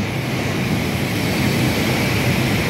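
Industrial blower exhaust fans run in a building's upper ground floor, a loud, constant broadband roar with no pauses.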